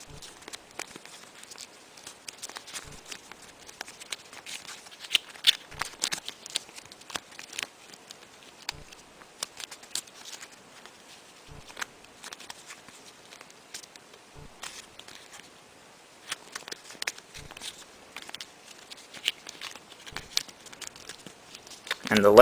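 Paper being folded and tucked into an origami water bomb balloon, with faint crinkles, rustles and soft creases coming in irregular bursts, close and quiet, with no voice over them.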